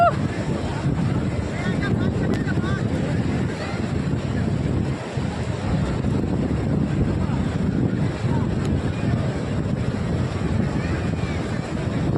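Sea waves washing in at Digha beach, a steady broad roar of surf mixed with wind buffeting the microphone, continuous and fairly loud throughout.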